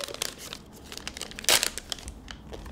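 A fruit snack packet from an Easter basket is torn open nearby, with crinkling plastic rustles and one louder tearing rip in the middle.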